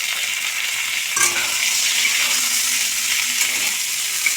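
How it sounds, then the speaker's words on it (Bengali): Steamed cauliflower and potatoes fry in a pan with a steady, moderate sizzle, broken near the start by a brief clatter as the vegetables are stirred, and no voices. "কপিটা দিয়ে ভালো করে ভেজে নিতে হবে।"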